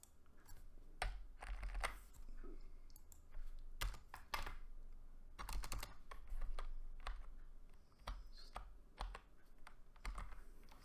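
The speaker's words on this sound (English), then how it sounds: "I'll type it in myself." Someone types steadily on a computer keyboard, with close, crisp key clicks arriving in quick bursts and short pauses, alone with no talk.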